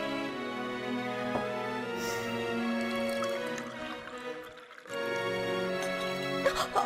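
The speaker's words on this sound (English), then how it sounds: "You pour a glass of wine fairly well" Wine poured into a glass in The Last Word, a soft liquid trickle and drip over quiet background music, with a brief lull near the end before it resumes.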